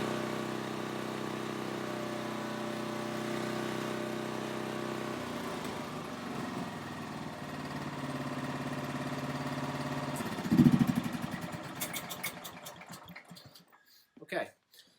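A Honda HSS snow blower engine idles at a steady, even hum after its engine speed is adjusted, then the tone shifts and fades out toward the end amid some light clicking.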